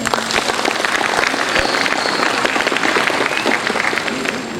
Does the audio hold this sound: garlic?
no